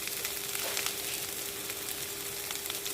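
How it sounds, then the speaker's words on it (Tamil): Tomatoes fry with ginger garlic paste in a pan, giving a steady, faint sizzle with a constant hum beneath it and no talking. "இப்போ தக்காளி நல்லா வதங்கி வரட்டும்"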